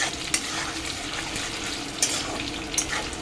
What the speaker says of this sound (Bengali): আলুটা ভেজে তেলটা তুলে রাখবো